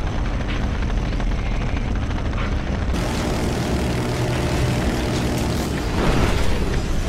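Enemy drone flying in Killzone Shadow Fall game, a loud whirring rotor-like drone with engine hum, shifting in texture midway and swelling toward the end, amid game combat noise without talking.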